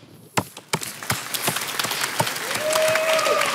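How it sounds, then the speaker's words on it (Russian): Live crowd at a Russian entertainment fighting show bursts into applause, starting with a few sharp separate claps and swelling into dense, continuous clapping that grows louder toward the end. "Ваши аплодисменты."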